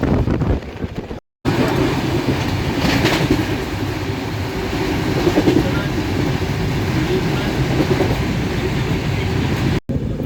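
The Prasanti Express passenger train rolls along in a loud, steady rumble heard from inside a carriage, with faint rhythmic rattling and two brief dropouts at the start and end.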